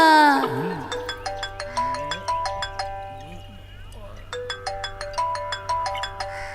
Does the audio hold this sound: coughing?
no